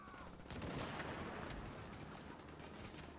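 Dense, continuous automatic gunfire in The Division's Dark Zone, a relentless rattling fusillade with overlapping shots filling the whole stretch, loud and close.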